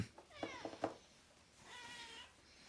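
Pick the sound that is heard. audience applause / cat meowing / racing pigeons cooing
cat meowing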